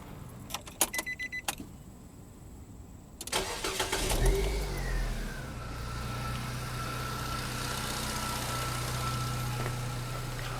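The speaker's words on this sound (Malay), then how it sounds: "Saya akan hidupkan enjin sekarang." Keys jangle, then a car engine cranks and catches, settling into a steady mid-pitched idle that continues at close range, with no talking.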